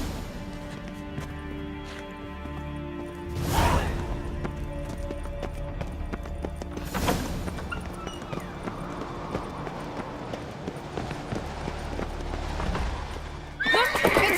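Horse neighs loudly twice amid a steady game soundscape in The Witcher 3: Wild Hunt, with hoofbeats clopping underneath and a third whinny bursting in near the end.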